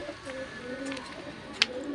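Pigeons in a loft give soft low coos, a few short calls repeating over a faint background, with one brief sharp click or flutter near the end.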